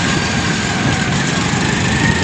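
A motorcycle engine running while being ridden on a rural road, a steady loud rumbling drone mixed with wind noise, close and continuous with no talking.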